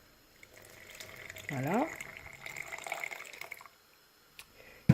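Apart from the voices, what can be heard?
pouring a little cold water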